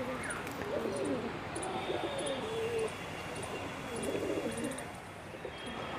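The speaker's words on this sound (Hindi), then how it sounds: "ये जो अपना राखोड़ी कबूतर है ये भी बिल्कुल फॉर्म में आ चुका है" A male grey pigeon coos in repeated low, throaty phrases, close by, set against a steady backdrop of faint high chirping from other birds.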